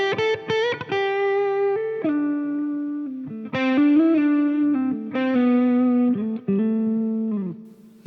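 Guitar run through a Zoom 505 multi-effects processor with heavy reverb, playing sustained notes and chords in loud, steady phrases with brief gaps, ringing tails and no voices.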